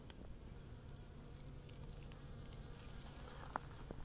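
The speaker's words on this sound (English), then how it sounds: "You can hear it's full of bees." Bees buzz steadily in a robust, overgrown ground-cover flower patch in a native plant garden, a low continuous insect drone close by with faint outdoor ambience and no talk.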